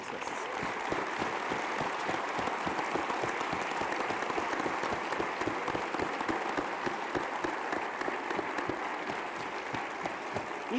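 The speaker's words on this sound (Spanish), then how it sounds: "Un gran aplauso." An audience at a lecture event honoring Stephen Hawking gives sustained applause, a dense patter of many hands clapping evenly from start to finish at moderate volume.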